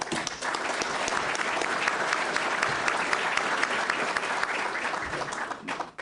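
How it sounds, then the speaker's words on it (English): An audience gives a steady round of applause, full and even dense clapping that holds for about six seconds before dropping off abruptly. "Round of applause."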